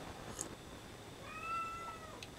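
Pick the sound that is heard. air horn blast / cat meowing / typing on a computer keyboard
cat meowing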